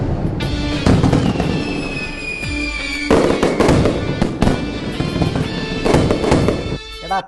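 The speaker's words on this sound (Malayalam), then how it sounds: "ഈ വർഷത്തെ ഉത്സവത്തിന് വടക്കേക്കരക്കാരുടെ വെടിക്കെട്ടുകാരനാരെന്നറിയാമോ മത്താപ്പ് മധു" Fireworks go off at a festival in a film reel: dense, loud bursts of crackling bangs and booms, overlapping and continuous, with sharp loud reports at intervals and whistling streaks above them.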